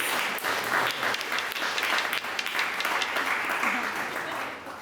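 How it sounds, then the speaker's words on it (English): Applause from a crowd at the First Peoples' Assembly of Victoria inaugural gathering, sustained and fairly loud, with cheering voices mixed in, tapering slightly at the end. "Everyone give them a round of applause."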